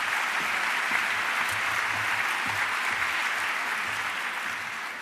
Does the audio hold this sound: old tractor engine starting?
no